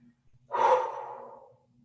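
A single heavy breath during an exercise class, one loud exhale that rises quickly and trails off over about a second, close to the mic with no talk.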